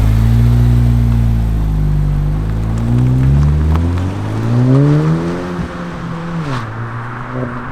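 A Honda Si with a Yonaka Motorsports exhaust pulls hard, its engine note rising and dipping through a loud, close, droning rev that eases toward the end.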